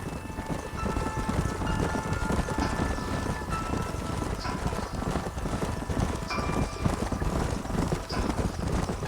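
Horse hooves clip-clopping steadily in the Western video game Red Dead Redemption, a continuous rhythmic trot of several horses over a dense ambient bed.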